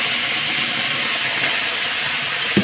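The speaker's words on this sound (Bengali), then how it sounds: "এখন কষিয়ে নিই" A spice paste for Bengali chicken kosha sizzles in a hot pan as it is sautéed, giving a steady, close, broadband hiss with no voices.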